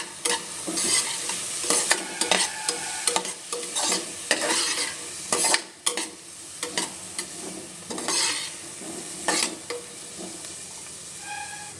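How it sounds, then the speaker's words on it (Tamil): Sweet corn roasting in ghee in a pan, with repeated spoon-stirring scrapes and clatters over a steady close sizzle and frying crackle. "இதையும் நல்லா ரோஸ்ட் பண்ணி வதக்கிக்கணும்."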